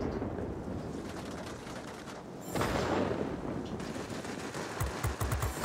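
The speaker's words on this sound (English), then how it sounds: "Bomb on the gun emplacement." A bomb hits a ground gun emplacement in World of Warplanes, a loud rumbling blast rising over steady aircraft engine drone, followed by a rapid burst of gunfire near the end.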